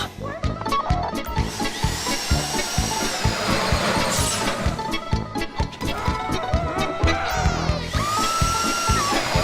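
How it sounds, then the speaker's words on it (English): A safe drill grinds steadily during a Fleeca bank heist in GTA Online, a loud, dense mechanical whine with rapid rattling pulses and occasional rising pitch sweeps. "If the drill burns out, this whole thing will take too long."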